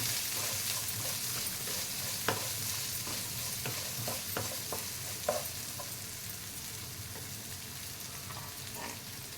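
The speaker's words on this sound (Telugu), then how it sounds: "ఇప్పుడు ఇందులోనే మనం ఉల్లిపాయలు కూడా వేస్తాము. ఆనియన్ మంచిగా ఫ్రై అవ్వాలి." Chopped onions fry in a pan for onion rice, with a steady close sizzling hiss and scattered spoon clicks and scrapes as they are stirred, and no voices.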